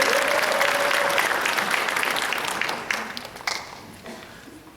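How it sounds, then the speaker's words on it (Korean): A church congregation breaks into warm, sustained applause to welcome a speaker to the front. The dense clapping fills the room and then gradually tapers off over a few seconds. "올라오실 때 뜨겁게 환영의 박수 한번 해주시기 바랍니다."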